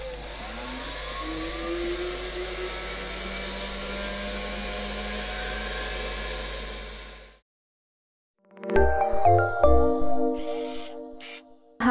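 A rotary polishing drill buffs the inside of a leather accessory, giving a steady high whir for about seven seconds before it stops, followed by a short burst of clattering music.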